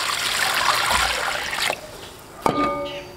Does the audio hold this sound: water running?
yes